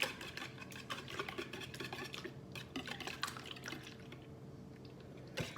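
Eggs are whisked briskly in a bowl for a breakfast hash, a quick rhythmic clatter of whisk against the bowl with wet sloshing, fairly faint and close, with no talking.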